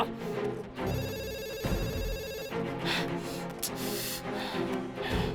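A telephone rings with a bright electronic trill lasting a couple of seconds, set among dramatic thriller-film music and background sound effects, with no speech.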